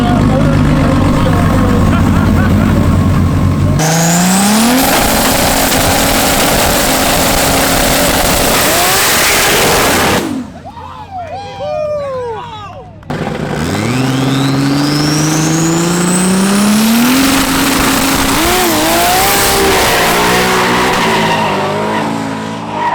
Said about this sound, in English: So we have a S14 Kooky 240SX coming in right now